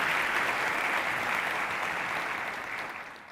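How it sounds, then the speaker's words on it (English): An audience at a debate claps steadily in a dense burst of applause, loud at first and gradually fading toward the end. "A round of applause to you."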